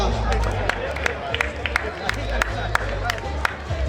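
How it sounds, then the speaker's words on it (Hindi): A crowd at a cricket match between Game Changers and Thunderbolt Strikers claps after a batter is bowled, with scattered sharp claps over a murmuring crowd while a commentator talks throughout. "जोरदार तालियां।"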